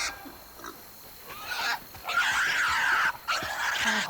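A pig squeals in the South of Midnight video game, a few high shrill bursts rising and falling over a quiet background.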